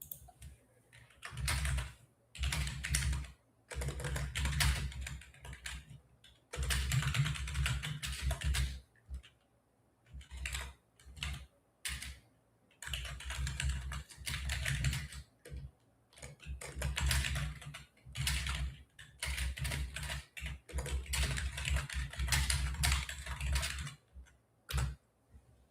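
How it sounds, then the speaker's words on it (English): Someone types on a computer keyboard in rapid bursts of clicking keys separated by short pauses, heard close and fairly quiet over about half a minute with no talking. "I'll type to you."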